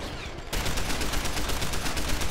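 Sustained gunfire in the first-person shooter Deus Ex: The Missing Link: after a half-second lull, a dense, continuous burst of rapid shots and impacts holds loud and steady to the end, with no talk.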